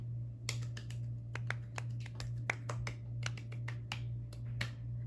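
A quick run of sharp, sparse hand claps sounds close and fairly quiet over a steady low hum, about a dozen irregular claps in five seconds.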